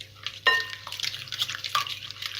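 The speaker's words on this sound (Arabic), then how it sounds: "وهقلبه تقليبه بسيطه في الاول كده" A whisk stirring pancake batter with cinnamon, salt and sugar in a bowl gives soft scraping and light clinking in short bursts, close and quiet, with a sharper knock near the start.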